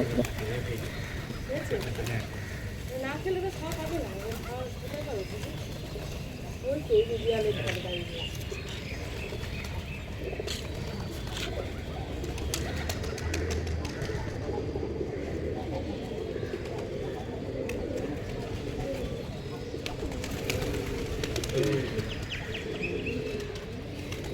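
Pet pigeons coo and flutter nearby as they are fed wheat, soft repeated calls scattered across a low background murmur, with a voice talking over them.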